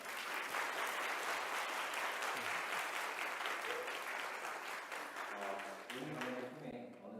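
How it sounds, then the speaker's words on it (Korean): A lecture audience at a university political talk gives sustained applause for a party leader; the clapping stays full and continuous, then a voice begins speaking over its tail near the end. "이준석 대표님께 다시 한번 큰 박수 부탁드리겠습니다"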